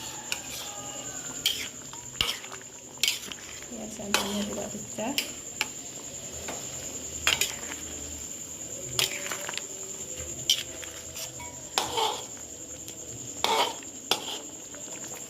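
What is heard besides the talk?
slowly stirring opor ayam with coconut milk in a pot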